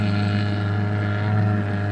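A steady motorboat engine on a fishing trip off Spring Hill, Florida drones continuously with a low, even hum, close and loud, with no pauses.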